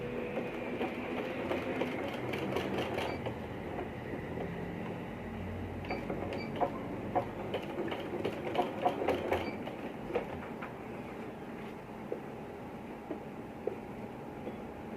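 A sewing machine runs a straight seam along a boys' kurta button placket, fast rhythmic mechanical stitching in bursts with clicky pauses between runs, alone without talk.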